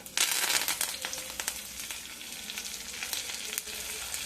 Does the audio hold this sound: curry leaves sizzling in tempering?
yes